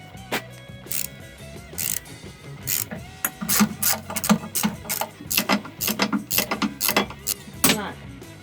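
A ratchet wrench cracks loose the exhaust manifold bolts on a 1966 Dodge Dart that sat for 30 years. Bursts of rapid clicking come and go over a low background hum, growing busier toward the end.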